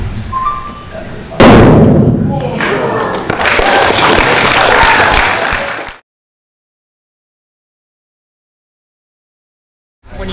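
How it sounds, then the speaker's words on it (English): A gas-filled balloon explodes into a large fireball in a chemistry demonstration, giving one sudden loud boom that rolls into several seconds of roaring noise and crowd reaction before cutting to silence. "This balloon's slightly bigger than the other one. What you're going to see here is a fairly large fireball."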